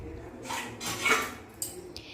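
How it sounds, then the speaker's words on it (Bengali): A dish of potatoes is lifted off a gas stove in a home kitchen, giving soft scraping metal and clinking pot sounds, close by, with a sharper clink near the end. "আলুর যে ডিশটা সেটাকেও নিচে নামিয়ে নিচ্ছি"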